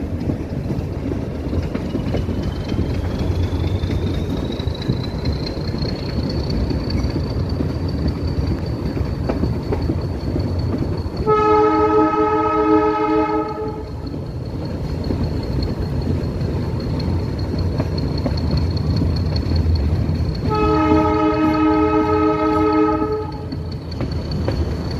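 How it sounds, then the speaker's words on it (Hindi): Metre gauge train arriving at Nanpara Junction on the Bahraich to Nepalganj Road line, a rumbling run with a steady whine, cut by two long horn blasts, each lasting a couple of seconds. "हमारी ट्रेन अब नानपारा जंक्शन पहुंच रही है।"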